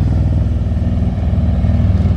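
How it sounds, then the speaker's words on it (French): Motorcycle engines rumble past on a road while riding in a car, a steady loud low drone with revving throughout. "Ah bah il y a même des motos."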